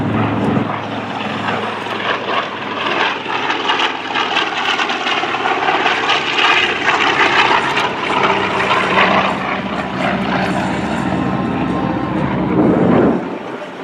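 A TBM Avenger warbird makes a low photo pass at an outdoor airshow, its big radial engine a loud, continuous propeller roar that swells and holds for the whole stretch, with crowd noise and faint voices underneath.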